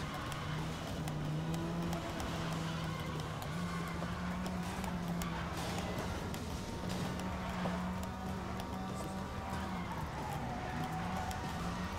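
A car drifting in Need for Speed: Most Wanted on PS3, a sustained engine drone with wavering pitch and tire noise running steadily throughout at moderate level.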